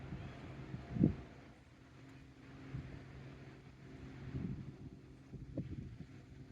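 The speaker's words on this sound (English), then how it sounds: "I can hear a boat in the background out on the big lake" A distant boat motor out on Lake St. Clair drones faintly and steadily beneath wind noise at a lakeside estate, with a few soft bumps and no clear foreground sounds.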